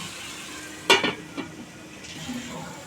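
Chicken curry with a little added water simmers and sizzles in a covered pan, with a sharp clink of the lid or a utensil near the start, then soft bubbling and faint scraping.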